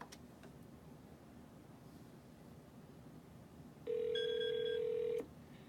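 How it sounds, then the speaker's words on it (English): An office desk phone rings once during a call transfer, a steady electronic tone lasting just over a second against a quiet background hiss, with no one talking. "now you see that phone is ringing"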